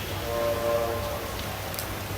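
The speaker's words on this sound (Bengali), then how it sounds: "অনেক বৃষ্টি, তবুও বৃষ্টির মধ্যে ভিজে ভিজে আমি ভিডিও করতেছি" Heavy rain pours over a shuttered mobile phone market in Dubai, a steady close wash of falling water with a faint tonal hum underneath and no voices.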